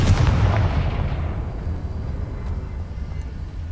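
One heavy blast from the Confringo blasting curse in Hogwarts Legacy, a loud booming burst that decays into a long low rumble, with no talking.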